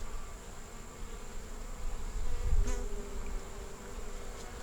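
Honeybees buzzing steadily over a three-frame nuc with a new queen, a close, continuous drone that swells briefly in the middle, with no talking.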